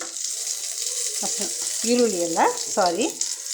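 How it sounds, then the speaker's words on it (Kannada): Onions and curry leaves are added to a hot pan for a radish dish and fry with a steady, close sizzle. Stirring or scraping sounds come in bursts over it, and there is no talk. "ಈಗ ಅದೇ ಬಾಣಲಿಗೆ ಈರುಳ್ಳಿ, ಕರಿಬೇವಿನ ಸೊಪ್ಪೆಲ್ಲ ಇಟ್ಕೊಂಡಿದ್ದೀವಲ್ವ, ಅದನ್ನು ಹಾಕ್ತಾಯಿದ್ದೀನಿ."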